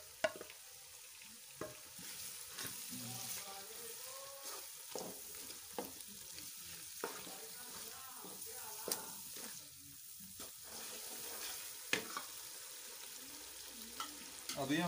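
Tomatoes sizzle and fry in a pan of beef curry with potatoes, a steady close crackle broken by frequent spoon scrapes and stirring knocks, with no voices.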